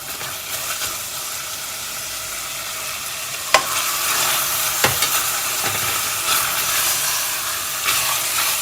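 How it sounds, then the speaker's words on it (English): Meat stirred into hot oil with ginger and garlic for a lamb stew, giving a steady close sizzle and hiss with a few sharp scrapes and knocks of the spoon against the pan. "And give it a good stir."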